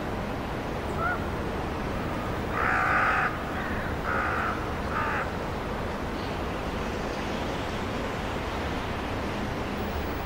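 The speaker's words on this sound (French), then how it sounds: "Les grands corbeaux en profitent pour venir le chahuter." Common ravens harass a young griffon vulture perched on a cliff ledge, several harsh caws sounding from a distance over steady wind noise.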